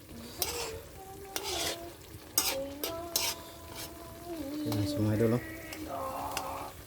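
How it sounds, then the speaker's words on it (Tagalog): Pork adobo bubbles at a boil in a pan while a utensil stirs it, with irregular scraping clatters over the simmer and a person talking throughout. "Kulong-kulo na. Yan, haluin natin."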